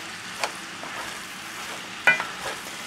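Spoon working through a rice and meat filling for stuffed peppers, soft scraping and squelching strokes with a couple of sharper clinks over a low background hiss.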